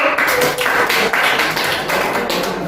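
Students in a classroom applauding a classmate, a quick flurry of close, irregular hand claps lasting a couple of seconds.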